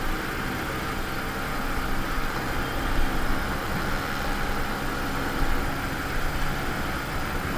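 Two-stroke Yamaha RX 135 or RX 115 motorcycle with an expansion chamber exhaust running at a bike meetup, a continuous loud engine drone with slight surges, no speech over it.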